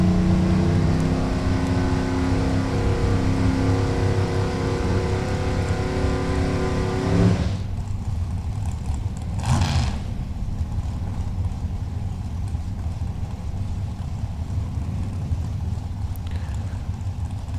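A drag racing car on a slow parade lap at Texas Motorplex, its loud engine rumbling steadily and close, then dropping to a lower drone with one brief swell mid-way.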